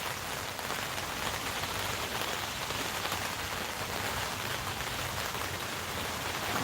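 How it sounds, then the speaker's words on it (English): Heavy rain pours steadily in stormy post-Christmas weather with wind picking up, a dense, constant roar of drops close by throughout, with no voices. "Oh, listen to that rain."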